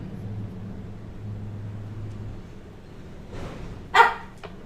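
A dog lying on its side lets out a single short bark near the end, after a quiet stretch with low background hum.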